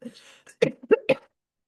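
A few short, sharp coughs come in quick succession after a brief soft sound, close and fairly quiet.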